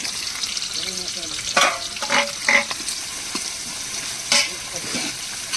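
Onion and whole spices frying in hot oil over an outdoor fire in a forest, a constant crackling sizzle with a few sharper spatula clinks and stirs.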